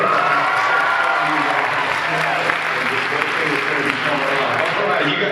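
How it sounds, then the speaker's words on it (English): Students in a classroom clapping together, a dense, continuous patter of many hands sustained at an even level throughout, with faint voices mixed underneath. "thanks for clapping"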